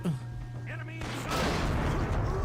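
A grenade blast and gunfire ring out in Medal of Honor: Rising Sun, a sharp boom followed by dense, rumbling noise, while a voice talks briefly over the start.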